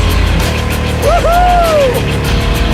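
An engine-swapped Jaguar, the Draguar, roars steadily as it does donuts in a parking lot, loud and close, while a voice shouts briefly over the engine.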